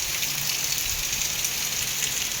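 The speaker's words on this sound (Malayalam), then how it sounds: "ഇതാ നോക്കൂ, ഇവിടെ നല്ല മഴയാണ്." Heavy rain falls in Goa, a steady, dense hiss of downpour holding at an even level throughout, with no voices over it.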